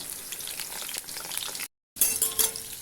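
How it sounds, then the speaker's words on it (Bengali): Potatoes with sliced onion fry in hot oil, giving a steady, close crackling sizzle that cuts out briefly to silence before resuming with some brighter spitting. "এটা আমি এই আলুর সঙ্গে ভেজে নেব"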